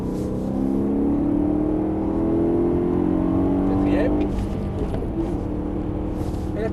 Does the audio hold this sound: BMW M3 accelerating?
yes